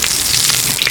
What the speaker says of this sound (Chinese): 重新炒鸡肉啊